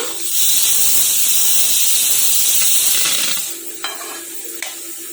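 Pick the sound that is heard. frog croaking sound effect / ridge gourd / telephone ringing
ridge gourd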